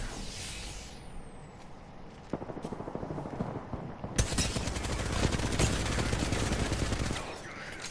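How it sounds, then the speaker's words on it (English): Rapid automatic gunfire from the Devotion weapon in a first-person shooter video game, a long sustained burst of close, loud shots after scattered earlier fire, with a faint voice underneath. "My shots are garbage with the devotion."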